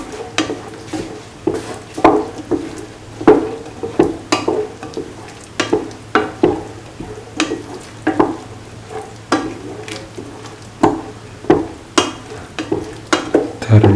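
Chickpea rice mixture sizzling in a frying pan while a utensil stirs and scrapes through it in steady repeated strokes, close and clear over a constant frying hiss, with no voices.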